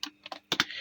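Computer keyboard keys tapped while writing HTML code, a handful of quick, light clicks close by with no talking.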